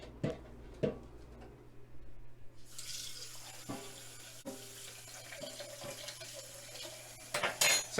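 A French coffee press is rinsed under a running tap, with water pouring and splashing into a sink and a few sharp clinks of glass and metal. The sound is close and moderately quiet.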